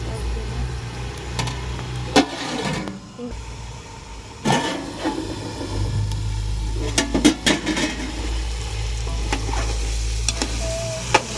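Chicken frying in oil for a tamarind chicken curry, a continuous sizzle broken by sharp scraping stirs and clanks, close and fairly loud, with a low background hum.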